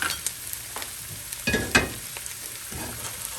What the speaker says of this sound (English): And I'm going to add my onions, and I'm going to add garlic, about 2 tablespoons worth.